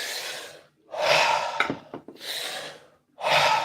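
Deep recovery breaths during a guided breathwork session, with long airy inhales and exhales that rise and fall in a slow rhythm, close and fairly loud, plus a couple of brief sharp sniffs midway and no talking.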